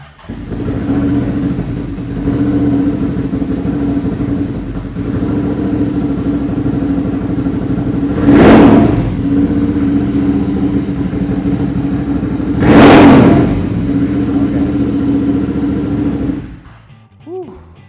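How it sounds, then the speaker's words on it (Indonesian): A Ducati Monster motorcycle engine idles with a steady throb, then revs sharply twice, each burst rising and falling before the engine cuts off. "itu dia tadi suara dari Ducati Monster"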